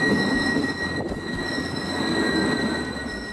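Double-decker passenger train with two levels of compartments, heard as a steady, loud rolling roar with faint high squeals from the wheels, continuous throughout without any voices.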